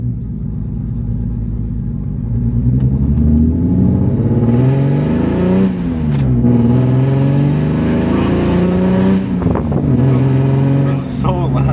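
A BMW E46 M3 fitted with Euro headers and Valvetronic drones loudly and roughly as the engine runs lean, the revs climbing and dipping through several swells, with voices talking over the rumble.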